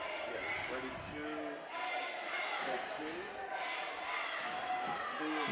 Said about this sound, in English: There's some good intensity here with the crowd.